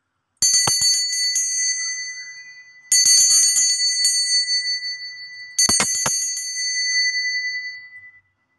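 A small bell struck three times in a quiet room, each bright ring sustaining and slowly fading for a couple of seconds before the next strike.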